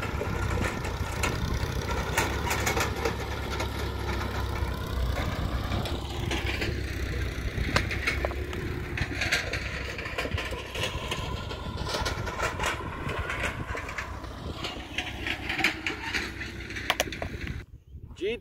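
A tractor engine runs steadily throughout while sowing wheat in a field in Mirpur, a loud, continuous low rumble that cuts off abruptly just before the end.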